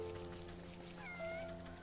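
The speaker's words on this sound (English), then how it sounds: "That's an actual sample of a cat, isn't it?" A recorded real cat's meow plays in the video game Wytchwood, a drawn-out, wavering call with a rising, bending tone over a low background hum, fairly quiet and alone.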